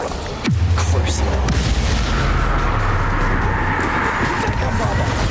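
A loud magical blast from the Expulso spell in Hogwarts Legacy, opening with a sharp burst followed by a sustained low rumble and crackling debris under continuous battle noise.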